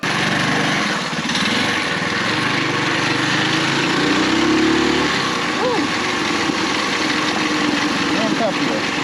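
Small engine of a vehicle fitted with a 30 series torque converter, running steadily with a buzzing, lawn-mower-like drone that swells in pitch midway as revs rise, loud and close, with a voice faintly audible underneath.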